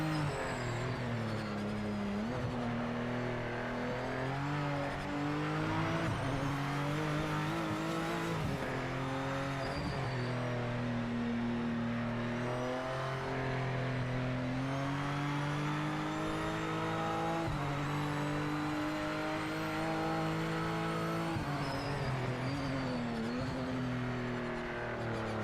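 Race car engine in the Project Motor Racing video game roars steadily throughout, pitch rising and falling through gear changes with occasional tire squeal, loud and continuous.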